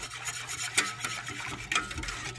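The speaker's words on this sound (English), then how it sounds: "we are just going to whisk this all together on the bottom" A whisk scrapes and stirs honey and mustard powder on the bottom of a pot, a soft continuous rubbing and swishing sound with a few sharper clicks against the metal.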